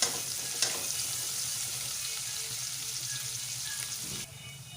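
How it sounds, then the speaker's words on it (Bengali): Chopped onions and green chillies fry in oil in a kadai, a soft steady sizzle with a clink at the start and another about half a second later, dropping slightly quieter near the end. "সব কিছু একসঙ্গে আমি একটু ভাজা হওয়া পর্যন্ত অপেক্ষা করব।"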